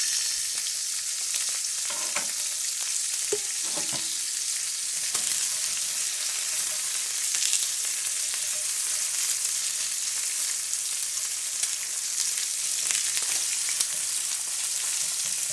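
Pork frying in a pan for spicy pork vegetable bibimbap gives a steady, dense hiss of sizzling throughout, close and even, with a few soft stirring knocks near the start.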